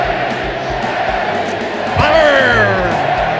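A hockey arena crowd cheers and roars, swelling suddenly partway through, with a voice talking over the noise.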